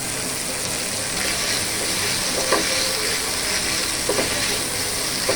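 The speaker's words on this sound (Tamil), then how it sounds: "இஞ்சி பூண்டு ஒரு பச்சை ஸ்மெல் போகிற வரைக்கும் வதக்கிக்கலாம்." Ginger garlic paste sautéing in a pan for pepper chicken gives a steady, close sizzling hiss, with a few soft scraping touches scattered through it.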